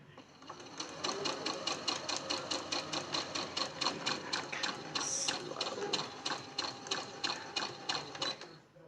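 A sewing machine stitches with the presser foot lowered, running a steady, fast, even mechanical patter close by for several seconds, with a brief faint high squeak partway through.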